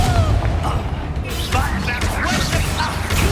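Confringo, a fiery explosion spell in the video game Hogwarts Legacy, bursts with dense booming crashes over game music and combat noise, loud and sustained throughout.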